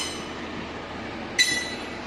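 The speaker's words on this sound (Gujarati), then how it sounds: "ઇન્ટરસિટી પ્લેટફોર્મ નંબર 2 માં આવી ગઈ છે" An Intercity train arrives at platform 2 with a steady low rumble of rolling wagons, and a short high wheel squeal rings out partway through.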